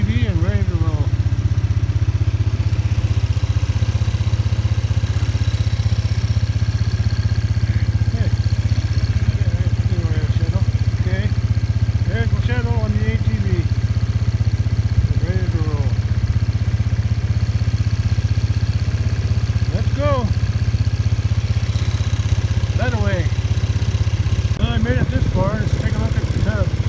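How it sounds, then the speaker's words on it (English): An ATV engine runs with a loud, steady low drone that never lets up, while a person talks over it. "I'm on the ATV and ready to roll."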